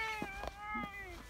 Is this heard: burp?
no